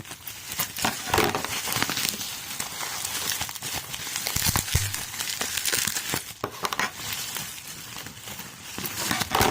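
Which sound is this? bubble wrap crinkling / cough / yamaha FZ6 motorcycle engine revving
bubble wrap crinkling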